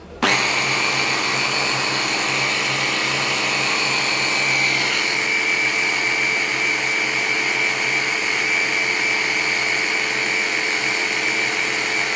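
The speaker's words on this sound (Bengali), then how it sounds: "এখন এটাকে ব্লেন্ড করে নিব" A kitchen blender grinds momo filling ingredients, including chopped onion, in a loud, steady whir that starts abruptly and holds an even pitch for the whole stretch, with no voices.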